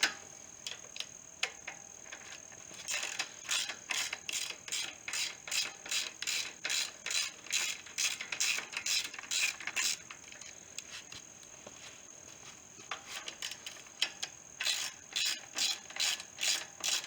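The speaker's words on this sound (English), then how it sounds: "That's a 1/2 inch wrench." A half-inch ratchet wrench turns a nut on a 1996 Harley 1200, its pawl clicking in quick, close, steady bursts with short pauses between strokes, fairly quiet and with no talk over it.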